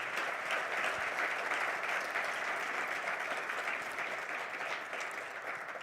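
A large audience claps steadily and continuously at a business event honouring the German government and project partners, dense applause filling the room without a break and fading only slightly toward the end.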